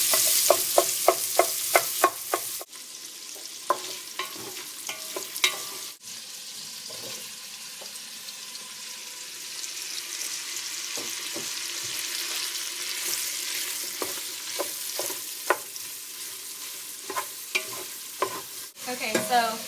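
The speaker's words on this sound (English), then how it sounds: "you want to take the sausage that you took the skins off, and you want to put them in a pan and just get them browned" Skinned sausage browns in a frying pan, a steady broadband sizzle running throughout with repeated sharp scrapes and clinks of stirring, close and fairly loud, and no talking.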